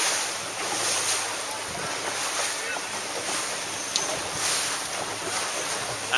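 A Beneteau 31.7 sailboat tacks through waves during a sail training session, with steady rushing water and strong wind buffeting the microphone throughout, and no clear voices.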